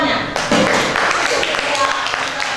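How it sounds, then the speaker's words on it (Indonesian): A classroom of schoolchildren claps for a classmate, a dense, loud patter of small hands that continues steadily, with voices talking over it. "Tepuk tangan buat kawannya."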